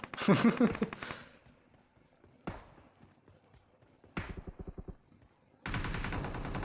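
Short bursts of rapid gunfire crackle in quick clusters separated by quiet gaps, ending with a sustained loud stretch of shooting, in PUBG Mobile.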